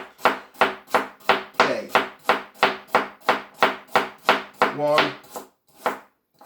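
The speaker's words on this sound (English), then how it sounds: "I'm just going to slice this carrot again into discs, quite thinly" A knife slices a carrot into thin discs on a chopping board: about a dozen crisp, evenly spaced chops in a steady rhythm, close and clear, with one short spoken word near the end.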